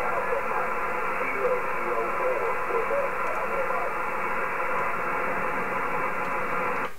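HF amateur radio receiver hissing with band noise, a steady band-limited static wash with faint, barely readable signal underneath, continuous for several seconds before cutting off.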